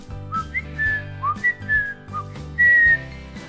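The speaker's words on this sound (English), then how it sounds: "It allows me to whistle." A person whistles a short, bright melody of several quick notes over a steady low musical backing, close and clear.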